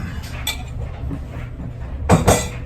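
A utensil scrapes an egg and cheese mixture for a crustless egg pizza out of a bowl into a pan, giving a few sharp clinks and scrapes, with two loud knocks near the end.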